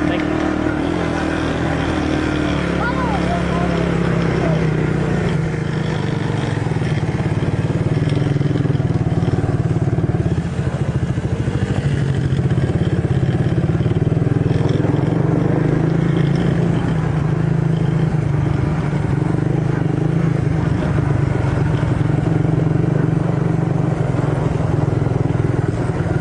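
A motorcycle rides through the woods, its engine a loud, steady, close drone that runs the whole time with slight swells in revving.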